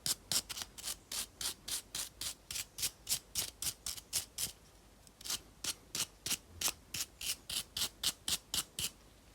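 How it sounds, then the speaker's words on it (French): Old spark plugs from a Jeep Willys scrubbed with a brush, a rapid run of rhythmic scratchy strokes, a brief pause, then another steady series, close up and fairly quiet. "je vais leur passer juste un petit coup de brosse, les nettoyer"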